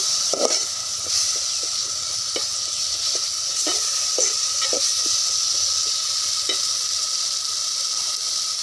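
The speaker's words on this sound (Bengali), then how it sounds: "একটু মশলাটাকে ভালো করে কষিয়ে নেব।" Ground spices fry in a pan while a spoon stirs them, a constant sizzle punctuated by regular scraping and tapping strokes about once a second, close and clear with no talking.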